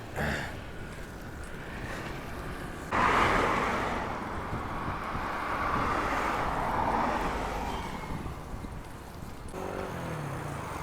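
Wind blowing steadily across open country under a clear sky on a bicycle road trip, a continuous broadband rush that swells louder from about three seconds in and then eases, buffeting the microphone, with faint traffic behind.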